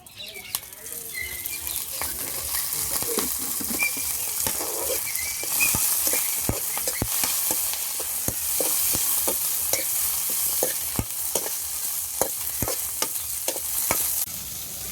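Broad beans fry in oil in a pan with a continuous close, bright sizzle, punctuated by regular crisp pops and clicks from stirring. No one speaks over it.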